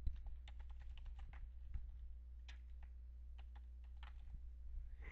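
A username and password typed on a computer keyboard to sign in, soft close key clicks in an uneven run over a steady low electrical hum, no voices.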